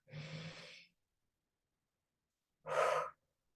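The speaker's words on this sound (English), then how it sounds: "Pressing the breath out." Two slow, close breaths during a guided breathing exercise: a soft drawn-in breath, a pause of silence, then a stronger, airy breath pressed out.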